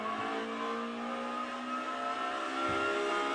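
A racing sim car's engine pulls steadily with a bright, sustained tone, building slightly toward the end as power comes on after a gear change, with no talk.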